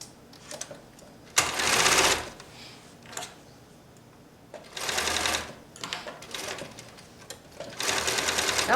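A sewing machine stitches quilt pieces in several loud whirring bursts of rapid needle strokes, separated by quieter pauses with small clicks.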